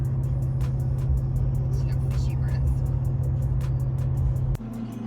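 A GM truck towing a trailer drives straight at low speed, a steady low road and engine drone with ticking across the whole span that drops in level near the end; people talk over it.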